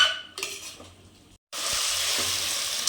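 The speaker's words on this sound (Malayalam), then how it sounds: "കുതിർത്ത അരിയിട്ട് നന്നായിട്ട് 5 മിനിറ്റോളം ഇളക്കി കൊടുക്കാം." Soaked rice being stirred in a hot pan for vegetable pulao, with a steady sizzle and frying hiss, a few spoon scrapes against the pan, and a brief pause before the loud sizzling resumes.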